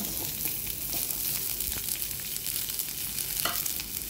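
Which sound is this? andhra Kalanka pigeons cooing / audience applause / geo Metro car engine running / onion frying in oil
onion frying in oil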